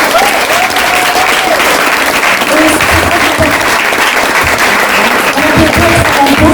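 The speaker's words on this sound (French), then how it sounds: "Donc vraiment, applaudissez-le très très fort." An audience applauds actor Emil Abossolo-Mbo in a steady, dense wash of clapping that runs unbroken throughout, with faint voices and cheers mixed into the crowd.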